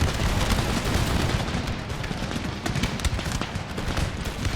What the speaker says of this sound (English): And then the second lines opened fire.